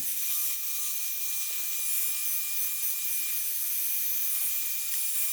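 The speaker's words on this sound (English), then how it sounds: "Use a blow dryer to slowly warm the new gasket to remove any creases and bends from shipping." A steady, airy blow dryer hiss runs without pause, broadband and fairly loud, with a faint electrical whine underneath and no talking.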